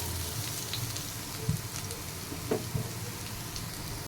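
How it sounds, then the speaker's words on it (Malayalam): Chopped bitter gourd sautés in hot coconut oil in a pan for a Kerala-style theeyal, a steady close sizzle broken by a few light clinks and scrapes of stirring, with no voices. "അതിലേക്ക് ഈ അരിഞ്ഞു വെച്ച പാവയ്ക്ക ഇട്ട് നന്നായിട്ടൊന്ന് വഴറ്റിയെടുക്കാമേ"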